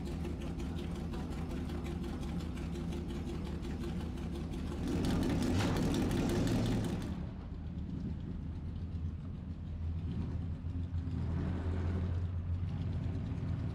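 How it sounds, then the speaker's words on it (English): A race car's quad cam V12 engine on the XJ13 runs at a shakedown at Curborough, a loud sustained mechanical drone that swells to a roaring peak and then settles into a lower, steady rumble. "a new 502 brake horsepower quad cam V12 engine"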